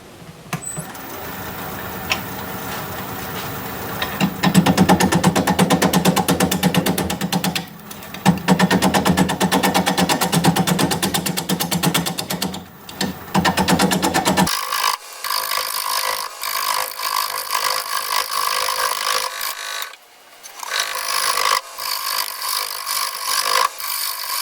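A wood lathe turns apricot wood while the bottom is flattened, producing a loud continuous scraping and cutting rasp with brief breaks and shifts in tone as the tool moves, with no talking.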